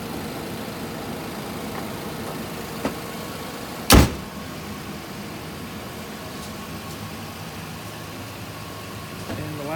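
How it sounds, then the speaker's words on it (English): A 2017 Nissan Pathfinder with a 3.5 liter V6 idles quietly in a low, steady hum, broken once by a sharp click or thump near the middle. "Nice quiet running engine."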